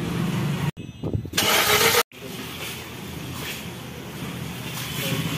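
A Hyundai i20 car just back from a major service, its engine starting and running at close range, with a brief rev and steady mid-pitched engine noise as it pulls away.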